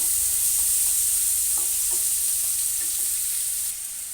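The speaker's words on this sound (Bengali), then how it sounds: "আলুটাও নাড়াচাড়া করে নেব" Diced potatoes sizzle steadily in hot oil while a spoon stirs them, giving a constant loud hiss with a few soft scraping touches and no voices.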